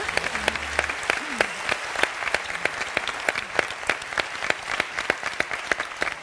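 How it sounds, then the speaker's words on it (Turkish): An audience applauds at an event honouring a Turkish tennis player's world podium finish, giving sustained rhythmic clapping with sharp, distinct claps, while a voice briefly sounds near the start. "Onlara da büyük bir alkış."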